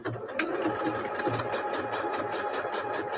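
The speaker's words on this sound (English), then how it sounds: "And I'm just going to do a straight stitch." A sewing machine sews a straight stitch while making fabric scrap rolls, humming in a fast, steady, close rhythm that runs without a break throughout.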